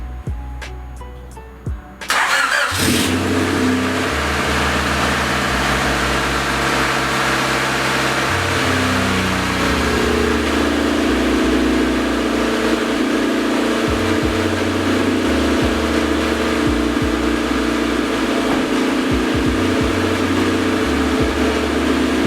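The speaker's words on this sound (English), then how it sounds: "So I'm going to give this thing a turn over and see if it'll start up." 1989 Honda CRX engine cranking briefly, catching and settling into a loud steady idle with a rough, pulsing rumble that runs on for the rest of the clip.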